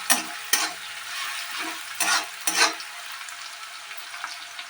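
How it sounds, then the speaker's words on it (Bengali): Onion and green chili fry quietly in a pan. A low, steady sizzle runs throughout, broken by a few sharp bursts of a spatula scraping and stirring, with no one speaking. "একটু ভাজা ভাজা হবে পেঁয়াজ আর কাঁচা লঙ্কাটা"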